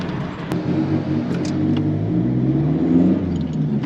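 A tuned Toyota Revo pickup with its original turbo is revved by throttle, with a rumbling idle climbing into a rising, whirring rev that peaks near the end. The engine is close and loud, with no talk.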